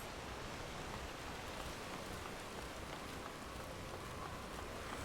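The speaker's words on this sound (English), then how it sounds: "It's raining." Steady rain falls in the Final Fantasy XIV Online world, a dense, even hiss of drops that holds at the same level throughout, with no voices over it.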